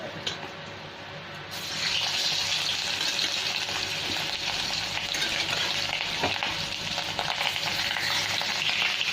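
More pieces of rui fish go into hot oil: a quieter moment, then a sudden, loud sizzle that stays strong and crackling to the end, close by and without speech.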